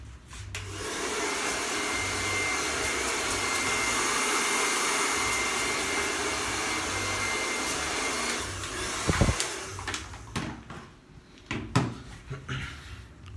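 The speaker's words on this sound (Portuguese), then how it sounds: "Eu vou vir com o meu secador." A hair dryer blows with a steady loud whoosh for several seconds during a barber's fade haircut, then cuts off, followed by a few clunks and handling noises nearby.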